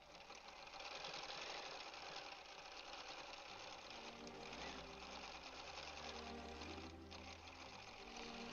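A Bernina 790 Pro sewing machine runs continuously while quilting, a fast, even mechanical whir with a brief change in pitch midway, fairly close and alone without talk.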